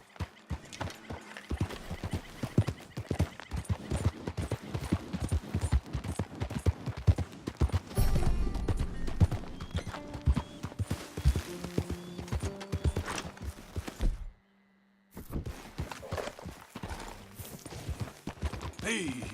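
Horse hooves galloping in the Red Dead Redemption 2 video game, a fast rhythmic clip-clop with a whinny, gunfire bursts and speech mixed in, briefly dropping out before resuming.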